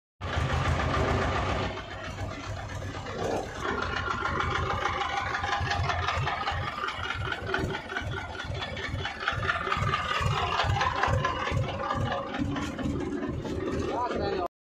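An HMT 2522 tractor engine chugs nearby with a steady, regular knocking rhythm, and people talk over the running motor.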